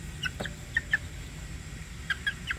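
Butcher Mt. Banahaw gamefowl chickens give short, scattered clucks, several quick calls clustered in two groups, moderately near against a quiet outdoor background with no talking.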